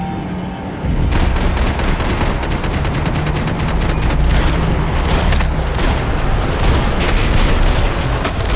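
Dense, loud gunfire from Max Payne 3, rapid repeated shots rattling almost continuously over a heavy rumbling bed, with no pause.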